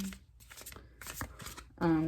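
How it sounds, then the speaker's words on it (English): Large, awkward tarot cards are shuffled by hand in a few soft, papery bursts, quiet and close, with someone speaking between them. "These cards are really big and awkward for me to shuffle, so I'm shuffling them in a funny way."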